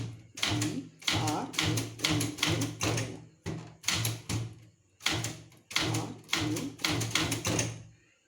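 A manual typewriter clacks in typing practice, keys struck in quick rhythmic bursts of several strokes separated by short pauses. It is close and crisp, with a voice faintly accompanying the strokes.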